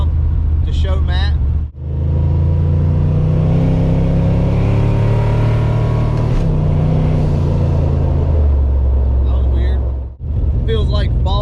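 A rebuilt car's engine pulls hard under load in third gear, a loud steady drone whose pitch climbs and then drops around a brief break, with a voice talking briefly at the start and end.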